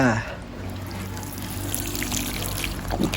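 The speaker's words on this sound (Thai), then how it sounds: "แต่ตอนนี้หัวฉีดสาวมดยังไม่มีนะ ขอลดน้ำก่อนนิดนึงค่ะ" Water is poured by hand onto sown caladium seeds without a spray nozzle, giving a steady, close splashing pour that runs throughout.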